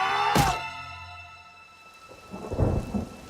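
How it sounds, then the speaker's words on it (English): A sharp thunder crack over steady rain drumming on a tin roof, followed by a low rumble later, with a sustained musical tone underneath. "I awoke to the sound of rain and the tin roof sang under the torrents."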